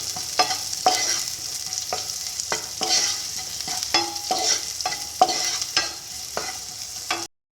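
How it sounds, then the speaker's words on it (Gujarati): Onions sizzle steadily in a hot pan while a utensil scrapes and stirs in regular strokes, close up and with no talking. "ફરીથી આને 1 મિનિટ સુધી સાંતળી લઈશું।"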